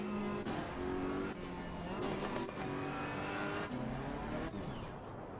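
Race car engines scream and rev in a sim racing game league race at Monza, a loud continuous high-pitched roar with repeated gear shifts and rising, falling pitch.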